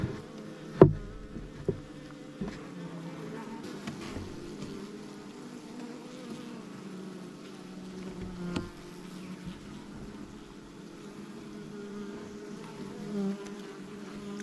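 Honeybees buzz around top bar hive frames during a hive transplant, making a steady, close swarm drone with a few soft knocks from the frames being handled.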